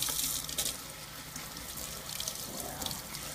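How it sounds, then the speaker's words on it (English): Cold tap water runs steadily over strawberries in a colander, a continuous close splashing hiss with slight surges and no speech. "put it in a colander and just simply run some cold water over it"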